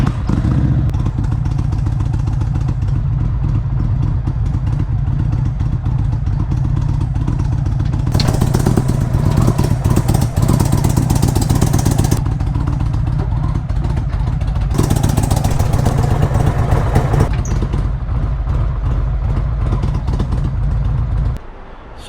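A motorcycle engine idles loudly and steadily close by during loading onto a trailer, a continuous low rumble with periodic rises in throttle and some clatter mixed in before it cuts off at the end.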